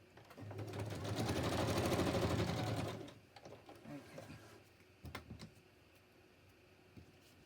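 A sewing machine runs fast and steady for a few seconds, stops, and then gives way to quieter clicks and handling noises.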